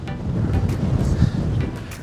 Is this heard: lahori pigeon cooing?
no